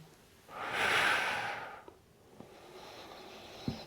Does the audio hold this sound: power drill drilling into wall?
no